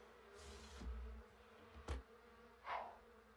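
Bees buzz around a beehive during a honey harvest in The Sims 3, a soft, faint drone that swells in a few brief passes over quiet background.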